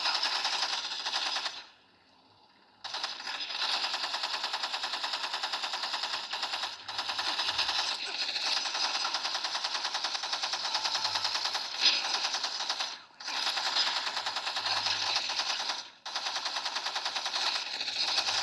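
Rapid bursts of automatic gunfire in the video game Gangstar Vegas rattle almost continuously, broken by a few short pauses, loud and close with a synthetic, game-like sheen.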